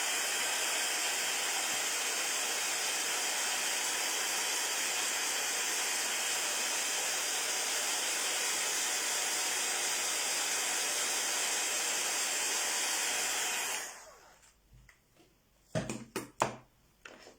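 A heat tool blows a steady, loud airy hiss while drying paint for about fourteen seconds, then cuts off, leaving a few faint clicks and handling noises.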